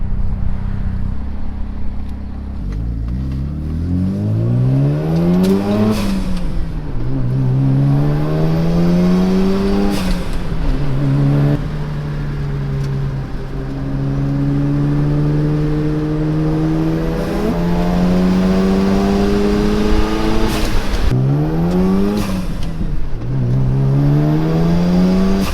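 A Mazda RX7 FD with a rotary engine revs and accelerates through repeated gear climbs, its pitch rising and dropping several times; the engine is loud, close and continuous, with no talking.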